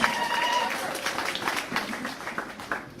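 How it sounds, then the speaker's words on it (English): A church congregation applauds its leadership, a dense wash of clapping from many hands throughout, with a voice briefly audible near the start. "They deserve a hand of applause."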